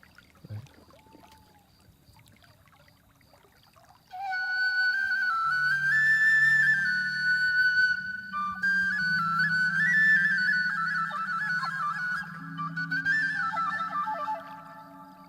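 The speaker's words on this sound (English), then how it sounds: "when I see people play the Irish tin whistle" Irish tin whistle playing a sustained, breathy melody of high held notes, loud and steady, over a low drone-like accompaniment after a quiet opening few seconds.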